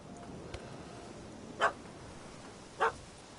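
A puppy in a video game gives two short, sharp barks, spaced about a second apart, standing out clearly over a quiet background rumble with no talking.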